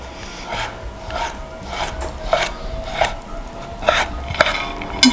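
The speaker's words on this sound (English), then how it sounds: "continue enjoying the process of slicing dry fruits and nuts" A knife slices through a dried fruit and nut mixture for an Armenian pastry filling, giving a series of rasping, rubbing cuts in an uneven rhythm at close range, with no talking.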